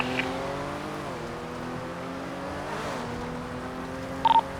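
A two-door silver Mercury Comet pulls away eastbound toward Las Lagunas, a steady engine drone with shifting pitch as it accelerates, heard from a distance over constant background noise, with a brief sharp sound near the end.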